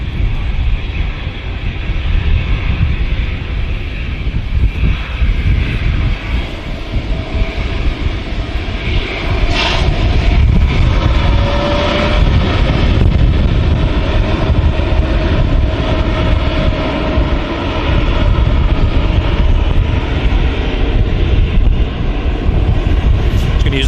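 An airliner takes off from the runway at Manchester Airport, a loud sustained jet engine roar that holds steady for over twenty seconds with a distant rumbling undertone and no talk.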